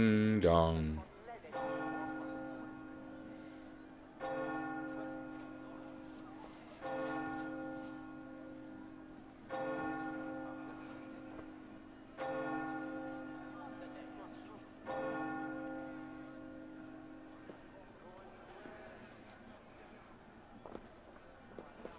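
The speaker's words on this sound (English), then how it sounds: "Wedding bells are ringing." Church wedding bells ring in Assassin's Creed Valhalla, with a low tolling bell struck about every two and a half seconds, each note humming and fading before the next, moderately quiet, with no voices over them.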